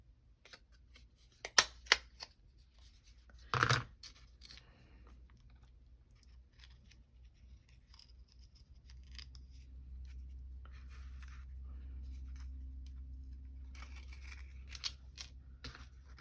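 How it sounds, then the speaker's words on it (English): A hole punch enlarging a hole in a card to fit a chain, heard as a few sharp clicks and a crunching punch stroke, close and fairly quiet, then low rumbling handling noise. "I'm gonna put or punch a hole bigger on this card so I can get that chain through there."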